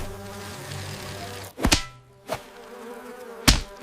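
Flies buzzing in an animated fairy tale about a little tailor, where they settle on bread spread with jam. A droning hum runs under three sharp whip-like swats that briefly cut through the sound.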